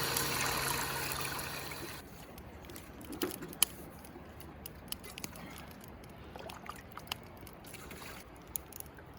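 Water runs from a tap at a campsite, a steady broadband rush for the first couple of seconds that then drops to a softer trickle with scattered small clinks and knocks.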